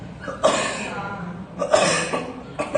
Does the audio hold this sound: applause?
no